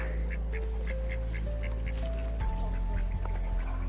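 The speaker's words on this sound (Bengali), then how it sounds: "প্যাকপ্যাকে হাঁস" Ducks quacking at Burns Park, a series of repeated nasal calls at moderate distance over a steady outdoor hum, with other birds faintly calling.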